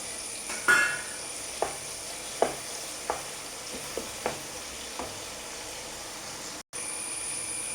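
Curry leaves dropped onto softening tomatoes in a hot pan give a steady sizzle, broken by a handful of light scrapes and clinks from stirring. No talk is heard.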